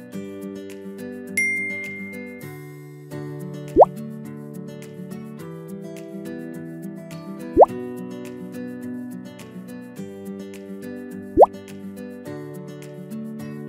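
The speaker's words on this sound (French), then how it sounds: "Une chasse d'eau qui fuit, un robinet qui goutte, ça ne semble pas grand-chose" Water drips from a leaking tap, three distinct resonant plops spaced about four seconds apart, standing out over a steady musical background.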